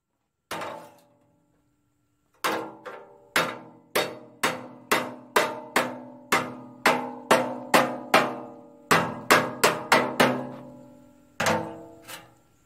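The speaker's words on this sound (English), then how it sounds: "we'll get a bigger hammer on that." A hammer strikes a 1963 Chevrolet Impala body panel against a dolly again and again, each blow ringing briefly. Bursts of quick blows are separated by short pauses, nearby and fairly loud.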